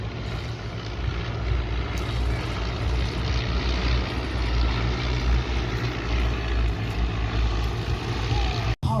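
A formation of propeller-driven fighter aircraft flies past at an air festival, a loud continuous engine drone with deep, throbbing low rumble that holds steady for several seconds before cutting off abruptly.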